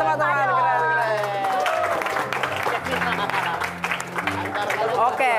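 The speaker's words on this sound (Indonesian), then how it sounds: "Tepuk tangan teman-teman" Audience applause and cheering for comedians at a roast comedy show, crowd clapping blended with voices and a talking presenter over the top, lively and close.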